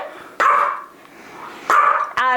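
A dog at home gives three sharp barks, the last a higher yip, loud and close in a quiet room.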